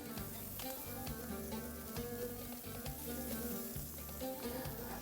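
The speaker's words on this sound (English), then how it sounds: "You know your grill's nice and hot when you hear that sound." Squid sizzling loudly on a hot grill, a continuous crackling hiss with rhythmic low thuds beneath, no speech.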